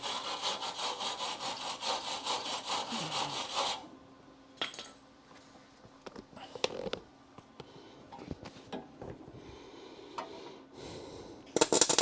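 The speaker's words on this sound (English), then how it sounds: "let me get the wire brush and clean that before I weld it" A wire brush scrubs metal on a Charger before welding, giving about four seconds of loud, rapid rasping strokes, followed by quieter clanks and handling noises.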